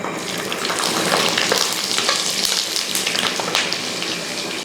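Crushed garlic and chopped ginger frying in hot oil for a chicken curry, a loud, close, busy sizzle with crackling spits throughout, stirred along the way, with no voices.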